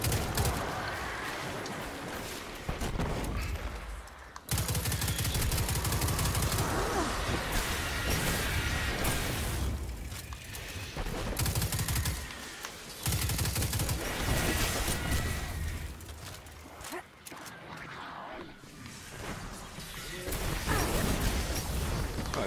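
Gunfire from a solar gun in the video game Destiny 2, bursts of heavy, dense shots and impact pops in long stretches broken by short pauses, with a voice talking over parts.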